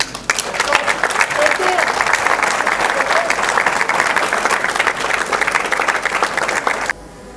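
Crowd at a Congolese presidential election rally applauding loudly and steadily for about seven seconds, dense clapping with cheering mixed in, then cutting off abruptly.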